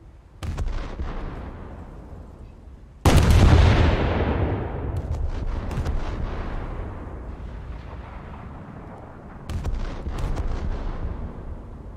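Heavy naval gunfire in a warship video game, with a loud booming salvo crashing in around three seconds and rumbling on, followed by further sharp blasts and a later burst near the end.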